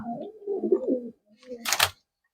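Murshidabadi pigeons with clipped wings coo in two short close bursts, a soft rolling call followed by a brief sharper flutter of sound, with no talk.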